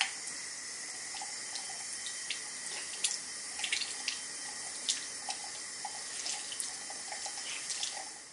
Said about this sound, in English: run it under some lukewarm tap water and squeeze it at the same time